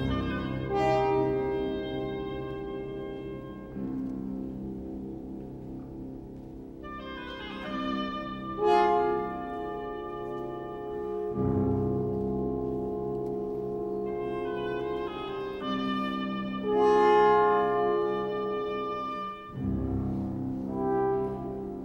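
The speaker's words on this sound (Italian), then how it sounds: "Questo che ascoltiamo in sottofondo è Il canto della terra, Das Lied von der Erde, uno dei grandi ultimi capolavori di Gustav Mahler" Gustav Mahler's Das Lied von der Erde, a late orchestral song cycle, plays steadily with sustained, layered tones that swell at intervals, with no talking over it.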